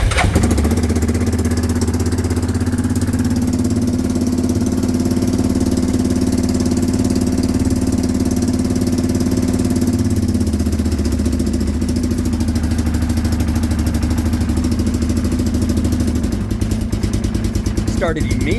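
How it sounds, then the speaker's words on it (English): Yamaha Rhino UTV engine running on choke, giving a loud, close, steady idle with a low, throbbing drone that cuts off near the end, while someone talks over it. "Started immediately, but gotta keep giving it choke to run."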